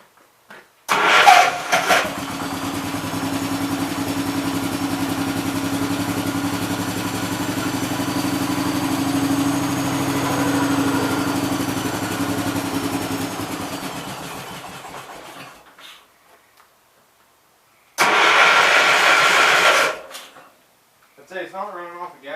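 A 1969 Gravely 430 tractor engine cranks and catches, running steadily and loudly for about fourteen seconds before cutting out, then briefly fires again and runs for a couple of seconds more.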